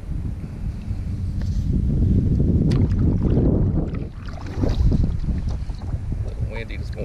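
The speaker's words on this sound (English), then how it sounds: "A little windy this morning, we'll see what happens." Strong wind buffets a fishing boat on a Texas bay on a winter morning. It makes a heavy, continuous low rumble that swells and eases for several seconds, with no clear speech.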